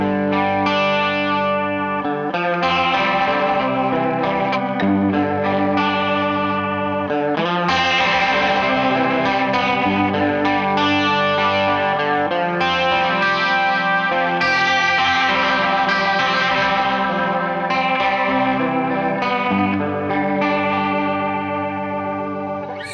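Electric guitar run through a pedal emulating a Leslie rotary speaker plays sustained chords with a swirling, warbling chorus-like shimmer. It is steady and fairly loud throughout, with no talking.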